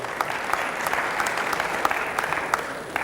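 A seminar audience breaks into a big round of applause, steady massed clapping with a few sharper individual claps standing out near the front, continuing for several seconds without talk.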